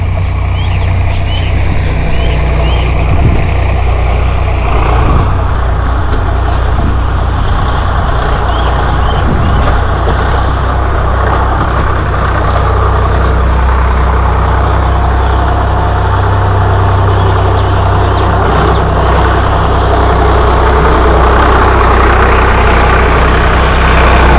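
A large tractor ploughing a field drones on with a loud, steady low engine rumble throughout, close by, with no speech over it.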